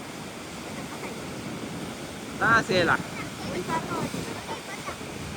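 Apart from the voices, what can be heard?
stormy sea waves crashing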